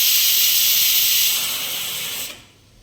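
A pressure cooker cooking chana dal lets off a loud, steady steam hiss close by, which fades and cuts off after about two and a half seconds.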